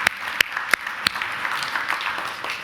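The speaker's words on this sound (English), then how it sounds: "So I think that deserves a round of applause in itself." An audience applauds a mortgage broker's 20 years in business at an industry event, with a few sharp, distinct claps standing out over a soft, steady clatter of hands.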